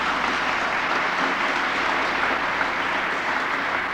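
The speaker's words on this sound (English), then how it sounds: "Yes, you can applaud very loudly." An audience at a book reading at Tammany Hall, Union Square, applauds steadily, a dense even wash of many hands clapping from a room-sized crowd without a break.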